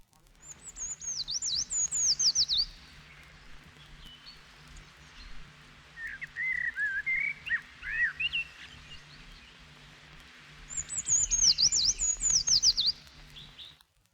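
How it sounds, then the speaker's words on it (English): A treecreeper sings thin high notes ending in a sibilant flourish, twice, at the start and near the end, with a blackbird's lower warbling phrase between them, set against a quiet outdoor background. "The tree creeper's song, heard here with that of a blackbird, consists of from 3 to 5 thin single notes followed by a sibilant flourish."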